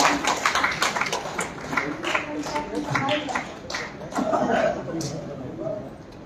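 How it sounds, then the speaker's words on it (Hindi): Audience at a literary festival in Haridwar clapping, with scattered uneven claps and taps while a voice talks over them. "जिनके हाथ खाली हैं उनकी तालियां बज रही है"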